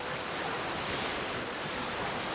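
Strong wind roars and waves rush steadily around a Mini 6.50 Pogo 2 sailboat in winter squalls, a loud, unbroken wash of wind noise battering the microphone, with no voices.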